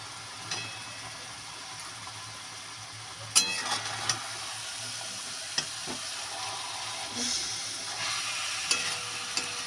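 Spice-paste-coated fish sizzles steadily in a pan over a lowered gas flame, a close, continuous frying hiss with occasional sharp pops and spatula scrapes.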